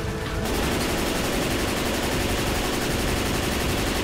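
Gunfire in the Left 4 Dead 2 zombie shooter on a custom moorland map, a loud, dense and continuous stream of rapid shots running almost the whole time, no talk over it.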